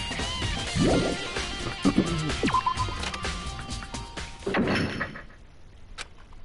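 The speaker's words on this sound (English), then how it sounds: "I heard a strange sound. What's that? That's the door!" A door sound from the video game Danganronpa: several thuds and knocks in a busy game mix, with a sharp thunk near the start and another near the middle, followed by a fading tail.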